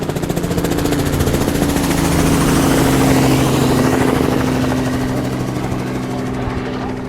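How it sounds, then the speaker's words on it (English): A helicopter flies overhead during a rhino search, its rotor thumping in a fast steady rhythm under a loud engine whine that swells and then slowly recedes. "The helicopter was already in the air,"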